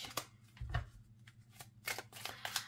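An oracle card deck shuffled before a card reading, giving a few quick riffling bursts and soft flicks spread irregularly across a short span, close by and fairly quiet, with no speech.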